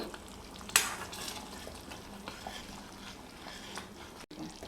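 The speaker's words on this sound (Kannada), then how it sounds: "ಗ್ರೇವಿ ಚೆನ್ನಾಗಿ ಕುದ್ದಿದೆ" Paneer masala gravy enriched with cream simmers in a pan, giving a steady, soft bubbling sizzle with a brief louder stir near the start and no talk.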